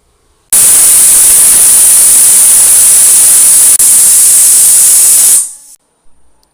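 Pressure cooker holding potatoes and spices lets out a single loud, steady, high-pitched steam whistle that lasts about five seconds before cutting off abruptly.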